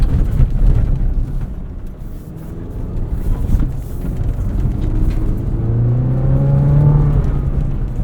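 A 2024 Chevrolet Colorado ZR2 pickup is driven off-road over bumps and dips. The engine drones steadily up close and rises in a rumbling rev toward the end, with no talking.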